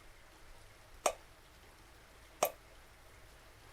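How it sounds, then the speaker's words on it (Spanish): Rainwater leaking into a house drips indoors, with three sharp, isolated drops landing at steady intervals of roughly a second and a half against a quiet room. "Llueve dentro de casa."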